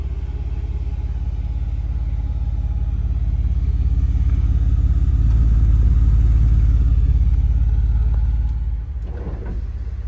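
A 1993 Mercedes-Benz 300E W124 with its 2.8-liter inline six runs smoothly at a steady idle, a deep, even low rumble heard from close by that fades slightly near the end, with no talking.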